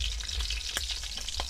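Balls of food frying in a pan of hot oil, a steady close sizzle with bursts of crackling and popping throughout.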